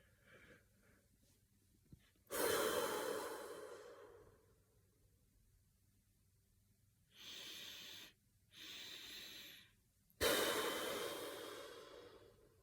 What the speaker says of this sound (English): there's a technique called the sigh of relief. And it's a double inhale followed by a long exhale